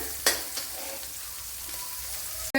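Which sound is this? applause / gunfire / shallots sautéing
shallots sautéing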